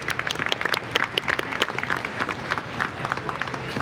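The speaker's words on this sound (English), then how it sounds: "just a big round of applause for Catherine." Audience applause at a 2019 Acura RDX reveal event, a steady dense wash of clapping from a crowd that holds evenly throughout.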